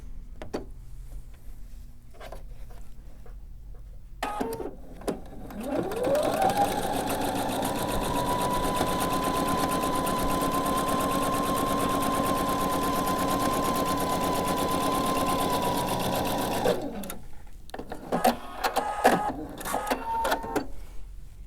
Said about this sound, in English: now I'm going to sew on the opposite side